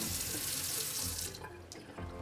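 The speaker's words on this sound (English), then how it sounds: "I am going to rinse it under some cold water" Cold water from a kitchen sink tap rinsing a black cod fillet, a loud steady hiss of running water that briefly breaks and splashes as the fish is moved under the stream near the end.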